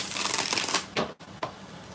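Tarot cards shuffled up close, a dense papery riffle that stops abruptly and is followed by two short card flicks, with no talking.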